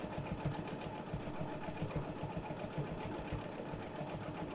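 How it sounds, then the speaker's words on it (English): A Janome sewing machine stitches a small heart shape, its needle chattering in a fast, steady mechanical rhythm at close range, loud and continuous with no talk over it. "I'm going to stitch around a little heart"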